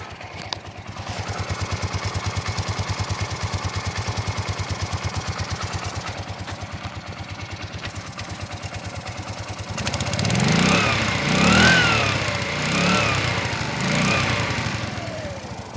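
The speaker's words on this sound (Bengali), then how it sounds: "গাড়িটা এখন স্টার্ট অবস্থায় আছে। যদি গাড়ির ইঞ্জিনের সাউন্ড শোনেন" H-power 125cc scooter engine idling close by, a steady mid-pitched putter for several seconds before the revs rise and fall in a few swells.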